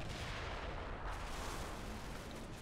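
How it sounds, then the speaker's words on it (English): Mortar rounds pounding a house in the Combat Mission war game, a continuous rumbling barrage of muffled blasts that forms a dense, steady roar of explosions. "more mortars. Lots of fire going in on that house"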